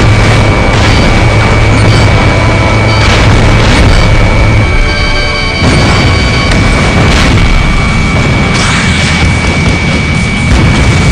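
Vehicles blow up in the Ace Combat Assault Horizon video game during an F-15E Strike Eagle mission, with repeated heavy booms and crashes over constant loud roaring engine and battle noise.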